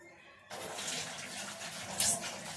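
A household tap is turned on and runs steadily, starting abruptly after a half-second of quiet and continuing as a close, even gush with a brief surge near the end.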